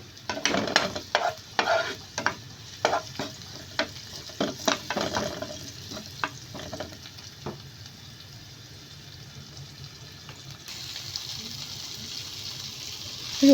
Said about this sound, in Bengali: আমি রসুন কুচিটা ভেজে নিচ্ছি